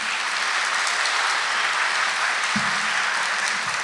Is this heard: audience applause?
yes